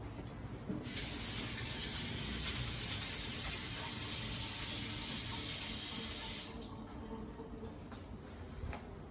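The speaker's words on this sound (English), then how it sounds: "let me wash my hands" Water runs steadily from a kitchen tap into a sink as hands are washed, a loud continuous hiss lasting about six seconds before it cuts off, leaving quieter room noise.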